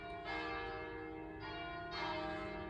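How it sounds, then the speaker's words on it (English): Church bells ring out at noon, sounding somewhat distant and soft, with a few overlapping tolls whose rich resonant tones linger between strikes. "I love bells. It's noon here, and those are the noon bells."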